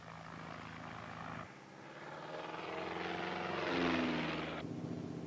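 Aircraft taking off from sea ice on a seal-spotting flight, a loud droning engine and propeller roar that swells in pitch and volume as it powers up and lifts away, with no talk.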